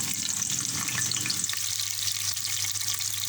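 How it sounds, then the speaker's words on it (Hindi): Chopped onions hitting hot oil in a pan for moong daal, giving a steady, close hiss and crackle of frying, with brief stirring early on. "मैंने ऑयल डाल दिया है अपने हिसाब से, आप अपने हिसाब से ऑयल डालें। और अब ये प्याज डाल रही हूँ।"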